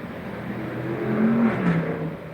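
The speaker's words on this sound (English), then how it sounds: "somebody just drove by fast" A car speeds past outdoors, a rising and falling whoosh with a brief whining tone at its peak, moderately loud against a low background rumble.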